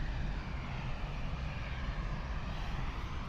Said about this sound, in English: Bombardier, probably a Dash 8.